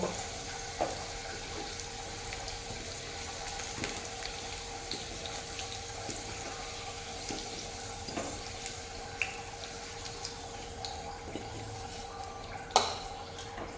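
Potato pieces frying in oil in a kadai over a high flame give a steady broadband sizzle with occasional sharp crackles and a louder pop near the end, close and unbroken by speech.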